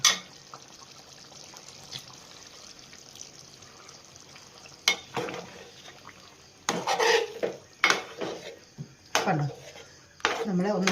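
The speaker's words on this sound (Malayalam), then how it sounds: "അതിലേക്ക് നമുക്ക് തേങ്ങയുടെ ഒന്നാം പാൽ ഒഴിച്ചു കൊടുക്കാം" First coconut milk is poured into a Kerala chicken mappas curry in a pot, with soft liquid splashes and intermittent clinks of a spoon or pan against quiet background, while a voice talks at times.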